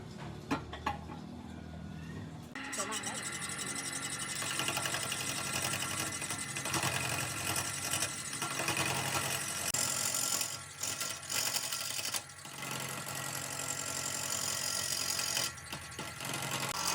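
A wood lathe spinning a scrap wood vase, a steady close mechanical whir with a sharp knock at the very start and faint rattling bits through the run, no voices.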